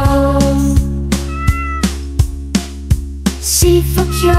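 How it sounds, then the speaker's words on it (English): A cat meows repeatedly in a children's animal song, the loud meows landing in a steady rhythm over a sustained musical backing and beat. "With a purr and a meow, they say hello."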